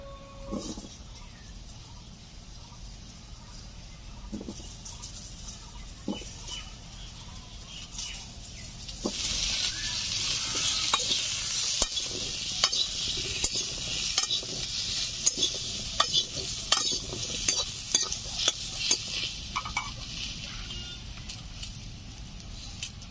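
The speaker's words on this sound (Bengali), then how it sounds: "কড়াইতে 1 চামচ মতো তেল রয়েছে, খুবই সামান্য। এখন দিয়ে দিচ্ছি ভালো করে ধুয়ে কেটে রাখা আলু।" Washed, cut potatoes drop into a little oil in a kadai and are stirred, a soft sizzle with scraping strokes of a spoon growing busier partway through, close up with faint birds in the background.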